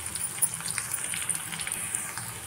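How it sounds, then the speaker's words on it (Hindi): Finely chopped bell pepper (capsicum) frying in a pan, a steady close sizzle and crackle with soft spattering pops continuing throughout. "अब मैं डाल रही हूँ इसमें कट किया हुआ, बारीक कट किया हुआ शिमला मिर्च। इसे भी थोड़ी देर के लिए भून लेती हूँ अच्छे से।"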